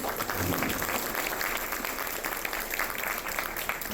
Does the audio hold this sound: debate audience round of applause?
yes